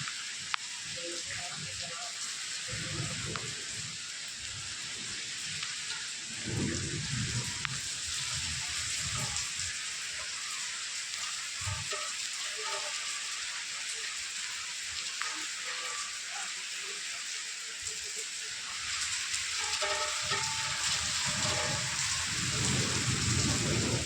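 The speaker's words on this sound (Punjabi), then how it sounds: "ਦੇਖੋ ਜੀ ਬਹੁਤ ਹੀ ਮੋਟੀ ਕਣੀ ਤੇਜ਼ ਛੱਟੇਦਾਰ ਮੀਂਹ" Heavy monsoon rain in Mansa district, Punjab, pours down steadily, a dense hiss of large drops pattering on surfaces throughout, with faint voices now and then beneath it.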